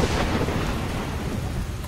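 A thunderstorm conjured by a spell in the video game Skyrim: dense, steady rain hiss under a deep rolling rumble of thunder, loud and continuous throughout.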